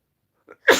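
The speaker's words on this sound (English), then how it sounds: "Sneeze, that's true." One human sneeze, close and loud, preceded by a faint quick intake of breath and then a sharp burst of air that cuts off abruptly.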